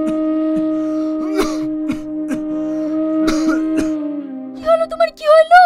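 Several sharp, close coughs break out one after another over a steady musical backdrop in a Bangla drama scene, followed by a brief voice at the end.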